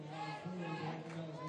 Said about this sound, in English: the crowd is cheering for AJ